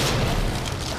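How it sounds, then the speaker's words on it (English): A head exploding in the video game Resident Evil 2, a single dense booming burst that fills the brief moment, close and full, with no voices over it. "Talk about head explosion."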